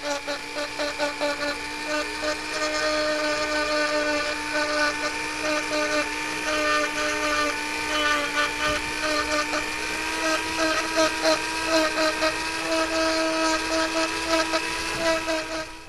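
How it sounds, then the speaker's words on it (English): A small handheld power carver with a coarse ruby bit shapes a wooden loon carving, knocking off hard corners, giving a high, steady whining buzz with fluctuating grinding pulses close up throughout. "And I'm using a little power carver here."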